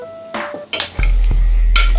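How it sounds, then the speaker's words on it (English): Crackling sizzle and pops of butternut squash fresh from the oven, with a few metallic pan clinks, close by. "popping and sizzling fresh out the oven there"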